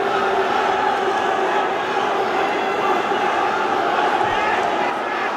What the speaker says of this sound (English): The crowd going electric here, supporting Chungreng Koren.